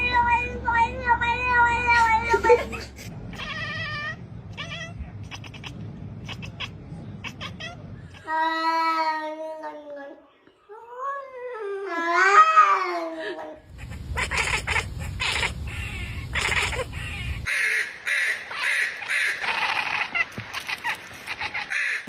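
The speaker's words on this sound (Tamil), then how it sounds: "இதுல மியாவ், ஃபர்ரஸ், ஹில்ஸ், உருமல் போன்ற ஒலிகள் அடங்கும்." A cat meows and vocalizes in a string of distinct, rising and falling calls with gaps between them, mixed with other shifting noises.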